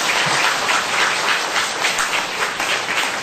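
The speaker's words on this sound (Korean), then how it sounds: "우리 박수 한번 쳐드립시다" A church congregation claps together in steady, dense applause, the sound even and sustained at moderate loudness without speech over it.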